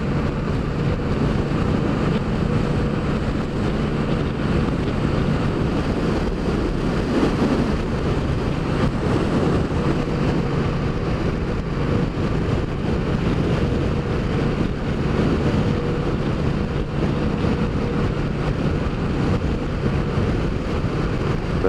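Steady, dense rumble of a Triumph Street Cup motorcycle engine while riding, heard close and continuous for the whole stretch, mixed with strong wind buffeting over the microphone and no talking.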